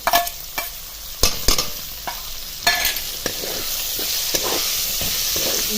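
Washed broad beans stir-fry in a hot pan with chilli spice mix, sharp spatula scrapes and clatters punctuating a steady, close sizzle that settles into a continuous hiss.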